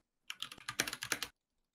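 Quick burst of typing on a computer keyboard lasting about a second, a dense run of close, crisp key clicks with no voices, then silence.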